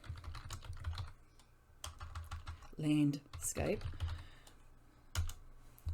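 Quick bursts of computer keyboard typing come close and clear, with a person talking in between the clusters of keystrokes.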